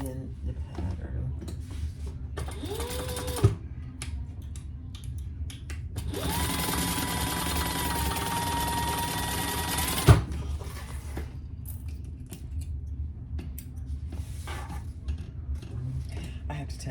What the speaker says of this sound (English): now we're going to sew these two M pieces together at the seam allowance in the pattern